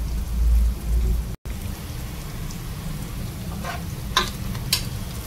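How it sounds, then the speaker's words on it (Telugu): Onions frying in a pan for mango mutton give a steady, close crackling sizzle throughout, with a short dropout near the start and a few brighter spatters toward the end, no voices. "ఆనియన్ అయితే బాగా వేగిపోయింది, ఇలా వేగితే సరిపోతుంది"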